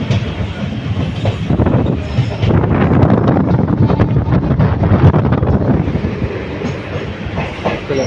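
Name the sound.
train arriving at Karaikal station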